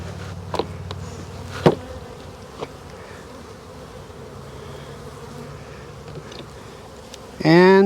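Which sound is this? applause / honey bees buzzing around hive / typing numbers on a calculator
honey bees buzzing around hive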